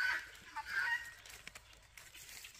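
Hens cluck softly around a nest of eggs in a forest, a few brief calls scattered over a low, steady outdoor background.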